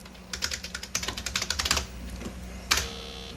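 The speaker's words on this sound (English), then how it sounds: "let's type in Susan Smith" Typing on a computer keyboard, a quick run of light key clicks for over a second, then a pause and one last firm keystroke, close and alone.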